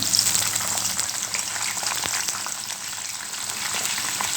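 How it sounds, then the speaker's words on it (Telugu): Eggplant pieces frying in hot oil in a home kitchen, a steady, bright sizzle that is loud at the start and continues evenly with no talking. "ఇప్పుడు ఈ వంకాయ ముక్కల్ని ఆయిల్లో వేసుకుందాం"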